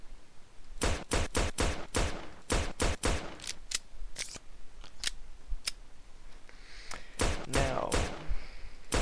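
Luger pistol gunshots from a video game weapon mod, sharp cracks fired in quick bursts and spaced single shots, loud and close with no talking.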